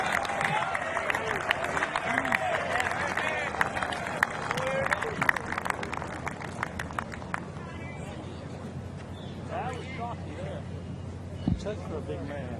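At the PGA Championship, a golf gallery around the 18th green breaks into scattered applause and murmuring after a delicate sand shot. The clapping is fairly distant and fades over several seconds while a commentator talks over it.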